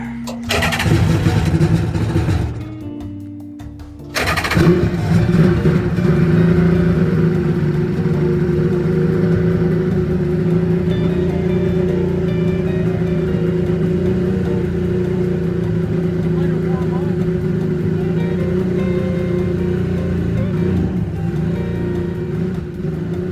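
A mini racing jetboat's motorcycle engine runs and revs unevenly close by, poorly jetted and reluctant to reach full throttle, cutting out briefly near the start before restarting and droning on steadily.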